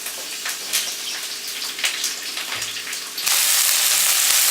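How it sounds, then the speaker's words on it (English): Sliced onions sizzle in a tablespoon of olive oil in a hot wok, with a steady close frying hiss and scattered crackles and pops, and the sizzle swells noticeably louder and brighter toward the end. "Saute the onions for a minute"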